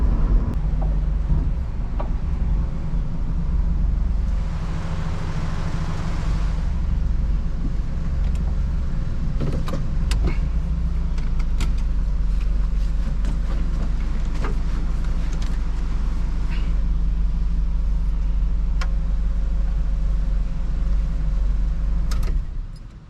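Steady road noise from a Subaru GC8 car driving along, a constant low engine and tire drone with wind buffeting, close and continuous throughout with no talking.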